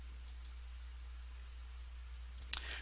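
A single soft mouse click on the OK button in genealogy software for GEDCOM files. It stands out near the end against a quiet, steady room hum.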